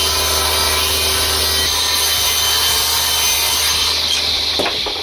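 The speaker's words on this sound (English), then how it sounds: "I'm going to go ahead and cut a 2-inch board for the middle" Saw cutting through a 2-inch wooden board for a rustic lumber garbage can, a loud continuous rasping stroke-after-stroke sound running steadily up close with no talking.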